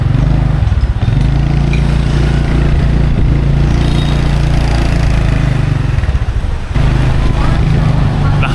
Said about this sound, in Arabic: الموتور نتاعنا جات